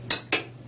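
A voice imitates a hi-hat with a beatbox TK, two quick crisp clicks, the first sharper, close and alone.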